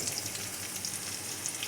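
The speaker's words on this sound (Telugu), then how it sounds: "కళాయిలో ఆయిల్ వేసి ఆయిల్ హీట్ అయ్యాక ఆనియన్స్, కరివేపాకు రెండు వేసేసుకుంటున్నాను." Onions and curry leaves fry in hot oil in a pan, giving a steady, close, crackling sizzle with scattered small pops and no talking.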